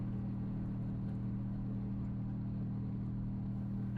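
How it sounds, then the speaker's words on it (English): Delta airliner jet engines climbing after takeoff from Heathrow, heard from inside the cabin as a steady, deep, continuous drone with a low rumble throughout. "Just listen to those engines."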